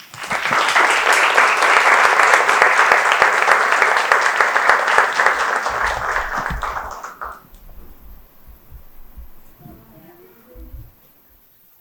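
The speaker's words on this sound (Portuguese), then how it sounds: "Salva de palmas para a Bia." A Portuguese-speaking audience at a hope-themed special gives a guest a loud, sustained round of applause that fades after about seven seconds, leaving a quiet room with faint voices.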